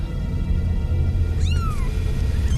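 A cat gives a clear rising-then-falling meow partway through, faint against a steady low rumble, with a softer second cry near the end.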